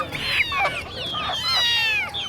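Several kittens at an animal market in Benin meow and cry continuously up close, their high overlapping wailing calls crowding together with no pause.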